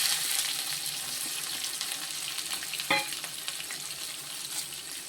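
Chopped onions frying in hot oil in a pan for a Tamil-style fried fish curry, a steady close sizzle with a brief stirring clatter midway, no talking.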